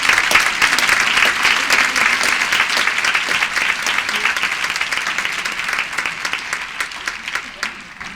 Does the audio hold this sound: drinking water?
no